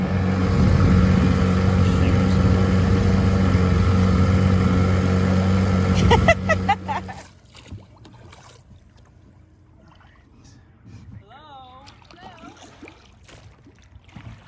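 A boat's motor runs with a loud, steady drone for about six seconds, then cuts out abruptly, leaving quiet water and background sounds while people talk.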